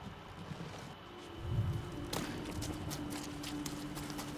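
A horse gallops in the video game Ghost of Tsushima: quiet, rapid hoofbeats start about halfway through and carry on over a low ambient rumble.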